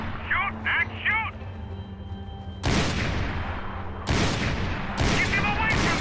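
Automatic gunfire rattles in the shooter game Max Payne 3. Short clipped voice calls come first, then three loud, dense bursts of shots follow in quick succession and fill the scene.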